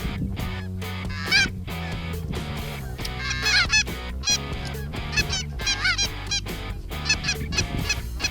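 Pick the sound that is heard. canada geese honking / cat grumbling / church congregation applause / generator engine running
canada geese honking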